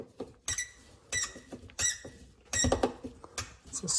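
A Lexus RX350 door part squeaks as it is pried out, giving a series of short, sharp squeals in bursts about every half second, close up and fairly loud, with small clicks between them.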